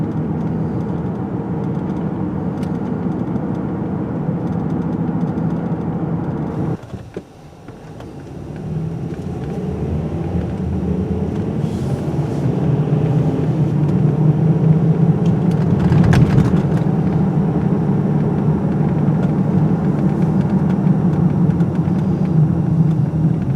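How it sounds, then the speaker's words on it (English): A Ford Edge drives along with noisy tires after a rear differential replacement, a steady low road roar and hum inside the cabin that briefly dips, then swells louder and holds for the rest of the run. "Got some noisy tires on this thing, but nothing like the differential before was insane."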